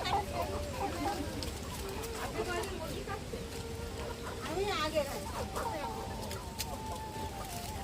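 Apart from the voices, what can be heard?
chickens clucking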